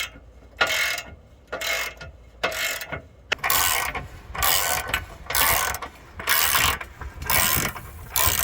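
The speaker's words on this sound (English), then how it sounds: "I loosened up the bolts for the torsion bars and it lowered just a bit" Ratchet wrench loosening torsion bar bolts on a Chevrolet Silverado truck, heard as repeated close bursts of rapid clicking separated by short gaps, roughly nine strokes, loud with no talk.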